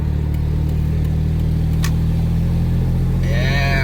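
A Subaru Justy's engine hums steadily and close, with a low rumble throughout, then rises in pitch near the end as it revs during the shift up to third gear. A faint voice is heard briefly.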